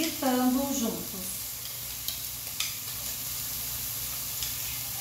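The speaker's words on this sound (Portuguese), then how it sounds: "Já vou colocar o bacon e a calabresa junto, porque eu piquei, tá vendo? Bem pequenininho. E aí eles vão fritando juntos." Chopped bacon and calabresa sausage fry together in a pan, giving a steady close sizzle and hiss with a few stirring scrapes and light pops; a short hum of voice-like tone rises briefly near the start.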